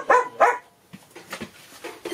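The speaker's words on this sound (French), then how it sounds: "Ça, c'est ma petite Chanel, vous l'avez reconnue, qui aboie." A small dog barks twice in quick succession, sharp and fairly close, followed by softer yips and whimpers at lower level.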